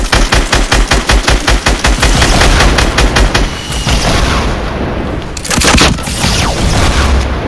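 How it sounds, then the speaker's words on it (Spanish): A submachine gun fires in a Fortnite Battle Royale duo match: a loud, rapid, evenly spaced stream of shots, followed by booming impacts and a final sharp cluster of fire. "Rompele con el subfusil"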